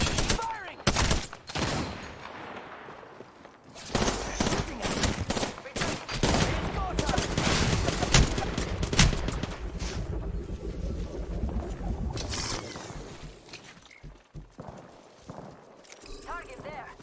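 Bursts of automatic gunfire rattle in a video game firefight, loud sharp volleys at the start and middle with a rumbling, windy background, while voices talk over parts of it.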